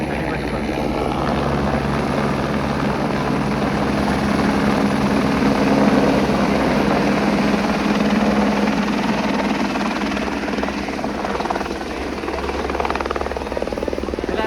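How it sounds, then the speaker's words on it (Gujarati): Helicopter arriving to land at the Kedarnath helipad in the mountains, a steady whirring rotor drone that builds slightly and holds, moderately close, with faint voices in the background. "હવે જો હેલિકોપ્ટર આવ્યું અહીંયા લેન્ડિંગ કરશે"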